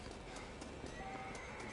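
A horse in the Red Dead Redemption video game neighs and its hooves clip-clop at a gallop, both fairly faint over a steady background of game ambience.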